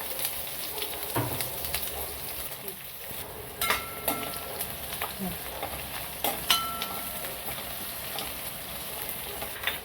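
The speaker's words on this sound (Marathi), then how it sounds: "कांदा टाकू, कांदा परतून घेऊ।" Sliced onion frying in oil with cloves, cinnamon, star anise, mace and bay leaves in a pan for chicken biryani, a soft sizzle under scraping stirs and light clinks, with a person talking over it.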